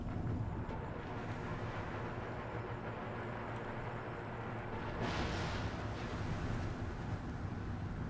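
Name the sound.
artillery barrage in Empire Total War video game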